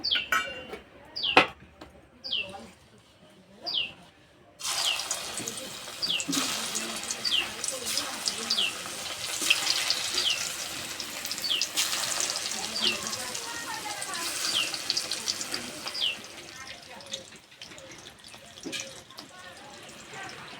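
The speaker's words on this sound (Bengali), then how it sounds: "এবার ভেন্ডিগুলো ভেজে নেব।" Okra sizzling and crackling in well-heated oil in a pan, a steady close frying hiss that starts abruptly after a few seconds of quiet kitchen clatter and runs continuously with bright spitting pops.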